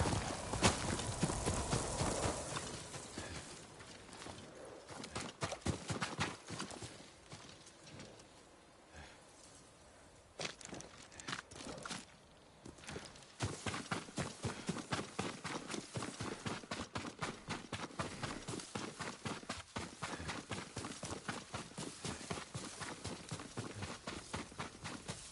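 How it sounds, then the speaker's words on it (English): Horse hooves clip-clopping at a steady walking rhythm in Ghost of Tsushima, continuous for most of the stretch with a brief quieter patch midway, moderately loud and without talk. "Yuriko's horse."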